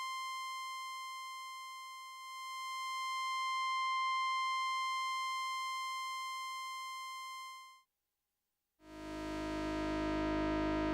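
A pure electronic tone from a Eurorack modular synthesizer, pitched around C, holds steadily with bright overtones, swelling slightly, then stops; after a brief silence a denser buzzing synth tone begins.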